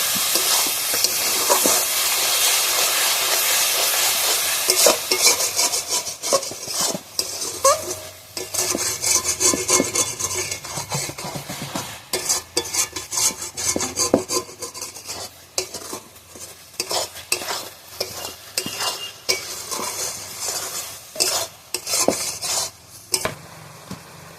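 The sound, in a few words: stirring coconut in a kadai for naru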